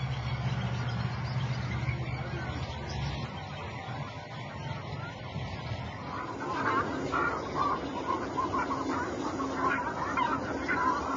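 Swans calling outdoors, honking and nasal calls rising over a steady background wash, growing busier in the second half.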